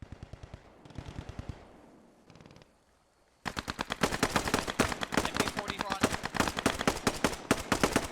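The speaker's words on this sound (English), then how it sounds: "right now they're taking MG fire" Rapid machine gun fire pours from a house in a multiplayer war game: short sporadic bursts at first, then a loud, sustained stream of evenly spaced shots under faint talk.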